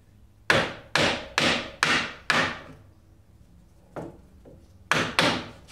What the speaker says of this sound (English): But you take your sledge.